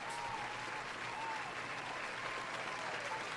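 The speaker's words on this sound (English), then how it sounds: "Oh, everyone liked the applause then?" Steady applause from a live audience at a psychic medium reading event, continuous and even for the whole stretch with no voices over it.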